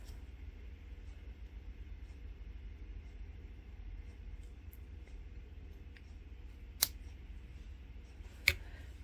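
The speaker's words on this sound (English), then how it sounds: "Now I'm going to come in and snip that off." Scissors snip off thread: two sharp, isolated clicks late in a quiet stretch of low background hum, the second slightly louder, with no talking.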